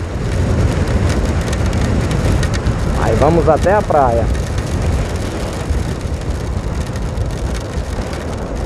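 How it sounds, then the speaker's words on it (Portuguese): Rain drums steadily on a car driving through Natal toward Ponta Negra beach, a dense, continuous patter filling the cabin while someone talks briefly partway through. "Eita, a chuva chegou"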